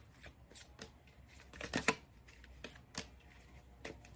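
An oracle deck of cards being shuffled nearby, soft riffling bursts and taps repeating in an uneven rhythm, one louder flurry near the middle, with no talking.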